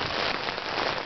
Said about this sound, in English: The rain continues, and all this rushing water.